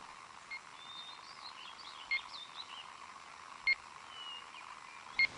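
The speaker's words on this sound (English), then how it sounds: "you can pick up a beeping sound, and that gets louder the nearer you get to the snake" Faint electronic beeps from a radio tracking receiver used to locate a snake sound at spaced intervals over a quiet hiss, with a few soft chirps in the background.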